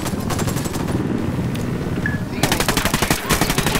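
Rapid bursts of automatic gunfire rattle through a firefight in the video game Tom Clancy's Wildlands, loud and near. The shooting runs throughout and turns into a sharper, denser volley toward the end.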